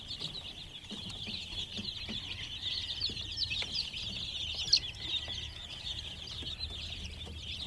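Day-old chicks give a dense, continuous chorus of high peeping, close and steady throughout, with faint low rustling beneath and no talk.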